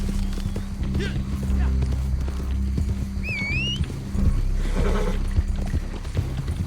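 Horse hooves clip-clop steadily in the video game Red Dead Online, with a brief whinny partway through. A player talks over the hoofbeats throughout.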